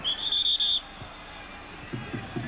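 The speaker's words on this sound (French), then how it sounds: "J'ai entendu un coup de sifflet de Monsieur Quignou." A sharp, high referee's whistle blast lasting under a second at a French Division 1 football match between Marseille and Bordeaux, followed by faint crowd murmur and a few low thumps.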